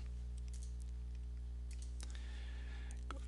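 Irregular quick clicks from typing on a computer keyboard, a few scattered keystrokes and short bursts over a steady low electrical hum, fairly faint and close.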